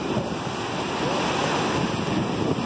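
Ocean surf crashes against the rock walls at Guarita in Torres, Rio Grande do Sul, as a continuous, loud roar of breaking waves with heavy wind noise on the microphone.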